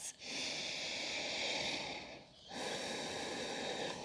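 Slow, deep breathing during a yoga session, two long airy breaths close to the microphone, a steady hissing inhale-exhale with a short pause between them.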